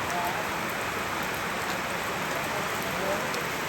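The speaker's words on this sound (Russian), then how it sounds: "Несмотря на то, что идет очень сильный дождь, здесь очень красиво" Heavy rain pouring at a temple in Bali, a dense, steady hiss of drops on surfaces that holds at constant loudness throughout, with no pauses.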